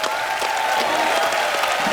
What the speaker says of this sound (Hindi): एक बार सलमान भाई, सोहेल भाई और अरबाज भाई के लिए जोरदार तालियां हो जाएं